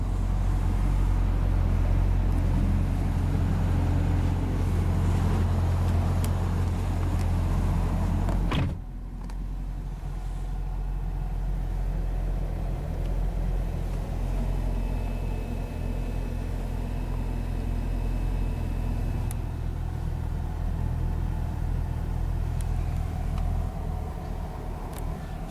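A 2010 Chevrolet Camaro 2SS idles after start-up with a loud, deep, steady rumble, which drops a step in level partway through and then holds an even, lower drone to the end.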